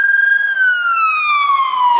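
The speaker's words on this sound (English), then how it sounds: "let the ambulance come past" An ambulance siren wails on the Las Vegas F1 track, a loud steady tone that slowly drops in pitch as the vehicle passes close by, filling the whole two seconds without speech.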